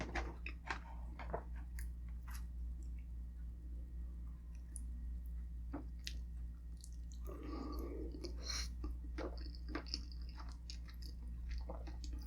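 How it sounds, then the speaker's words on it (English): Close, soft chewing and biting of an egg served alongside Filipino pork blood stew and crispy pata, with irregular crunchy clicks and wet mouth sounds over a steady low hum. "I'm gonna eat the egg."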